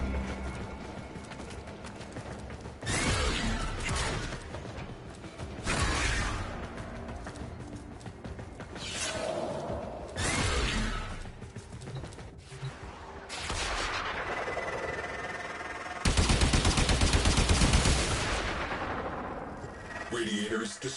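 Repeated bursts of weapon fire and heavy impacts as a radiator is shot and destroyed aboard a Railjack in the video game Warframe. The explosions are loud, with game sound effects and music layered around them.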